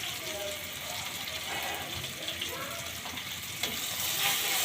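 Chili powder and turmeric powder hit hot frying oil, setting off a steady, loud sizzle and crackle that runs throughout, close up, with faint stirring and splashes.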